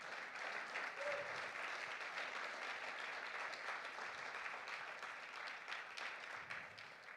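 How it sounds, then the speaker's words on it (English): Church congregation applauding students after their testimonies at a Sunday service: a sustained, even wash of many hands clapping, moderately distant and steady throughout. "why don't we just give another round of applause for all of them?"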